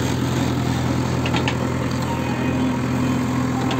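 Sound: JCB excavator working at culvert site

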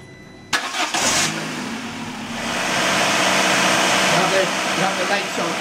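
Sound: Peugeot petrol car engine starting and idling

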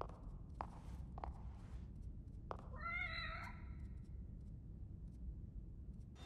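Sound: cat meowing in The Evil Within video game

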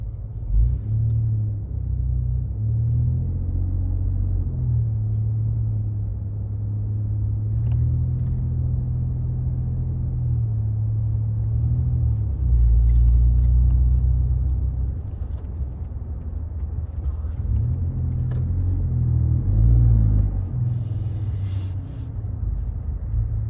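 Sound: busy highway traffic, cars passing

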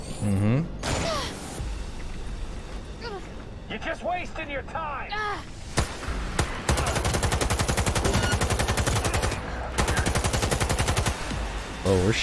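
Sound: gunfire in the video game Cyberpunk 2077

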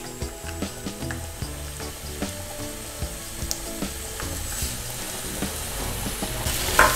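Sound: apples frying in pan with butter and sugar

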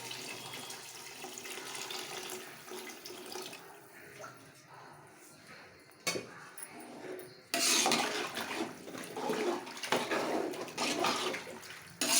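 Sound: water being added to a pot while cooking chicken biryani

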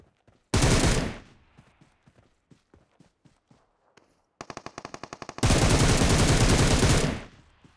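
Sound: gunfire in video game PUBG Mobile

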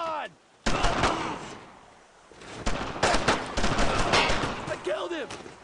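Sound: gunfire in the video game Brothers in Arms: Road to Hill 30

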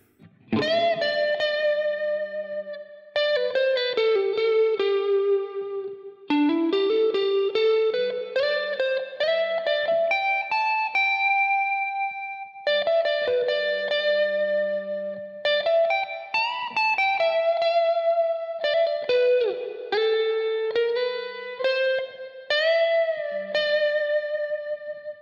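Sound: electric guitar through Line 6 Helix clean tone with mid boost

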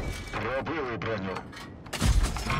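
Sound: tank cannon shot in World of Tanks video game

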